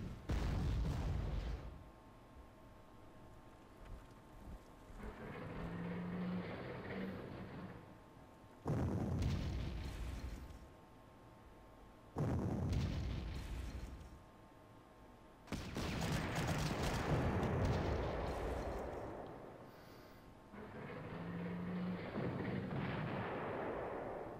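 Heavy anti-tank cannons fire in the wartime strategy game Panzer Corps, a series of loud booming blasts with rumbling decays, repeated about every five seconds across the stretch, with no talk over them.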